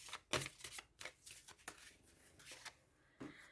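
Tarot cards are shuffled and dealt out one by one. Crisp, close flicks and slaps come in uneven bursts with short pauses between them, and there is no talking.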